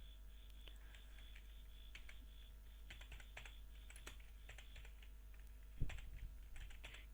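Typing on a computer keyboard while filling in a client-hunting spreadsheet, steady close light key clicks with scattered pauses over a low hum and one louder knock near the end.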